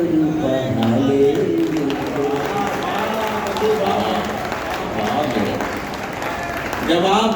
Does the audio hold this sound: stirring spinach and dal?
no